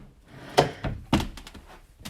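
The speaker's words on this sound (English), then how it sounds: "Just in the process of taking the next crib down." Two hollow thunks with a few lighter knocks between them as a baby crib is taken apart, close and fairly quiet with short pauses in between.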